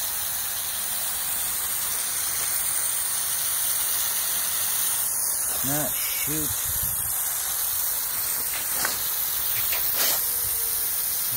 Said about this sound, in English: Every sprinkler I see is on way too strong.